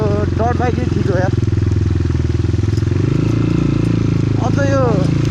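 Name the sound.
Cross X 250 SE dirt bike riding in Kathmandu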